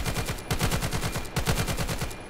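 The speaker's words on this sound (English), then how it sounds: "This is the SCAR, and it is default single shot" A SCAR rifle in the VR shooter Vail VR fires in two rapid bursts of sharp, loud, close reports with a brief pause between them.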